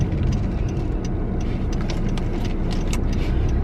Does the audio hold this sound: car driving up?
yes